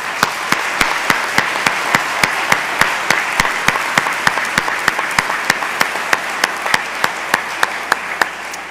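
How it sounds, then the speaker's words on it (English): A conference audience applauds in a hall, with a dense spread of clapping and a prominent, regular rhythmic clap beating steadily through the whole stretch. "Big round of applause for 50 years."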